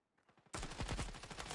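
Gunfire in a Call of Duty multiplayer match, a rapid automatic burst of M4 or AK rifle shots that starts abruptly after near silence and rattles on loudly.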